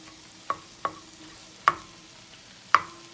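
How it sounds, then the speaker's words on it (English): Sausage browning in a pan is broken up by a utensil, giving four sharp, spaced clicks against the pan over a faint, low sizzle, close and unaccompanied by speech. "And I'm just gonna brown this."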